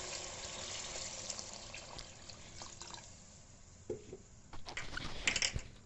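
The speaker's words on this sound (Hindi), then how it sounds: "तो अब इसके अंदर मैं पानी ऐड करूंगी।" Water is poured into a pan of sautéed matar pulao (pea rice) ingredients. A quiet, soft trickle and splashing build into a few louder gurgling bursts toward the end.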